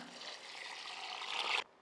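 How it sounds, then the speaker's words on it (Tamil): Water is poured steadily into a pot of soaking rice for chicken biryani, a continuous close splashing pour that builds slightly before stopping abruptly. "ஒரு கப் அரிசிக்கு ஒன்றரை கப் தண்ணிங்க இதில் ரெண்டு கப் அரிசி எடுத்துருக்கறனால மூணு கப் தண்ணி சேர்த்திக்கலாம்"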